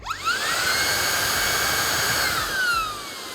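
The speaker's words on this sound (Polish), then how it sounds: "w tej chwili odkurzacz jest w trybie automatycznym, w tej chwili jest w trybie turbo, zobaczcie różnicę" Dreame R20 cordless stick vacuum cleaner switched into turbo mode: a loud, steady high-pitched motor whine that rises in pitch as it spins up, then drops off near the end, with no talking.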